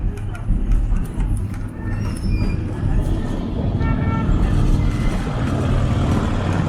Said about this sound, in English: we will be going over one of our longer train trestles on our train ride